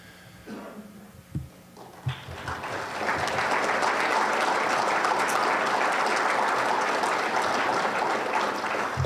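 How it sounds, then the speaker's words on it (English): An indoor audience applauds a warehouse operations team in Southern California, starting with a few scattered claps and swelling into steady, sustained clapping that fills the room. "You guys aren't used to getting applause"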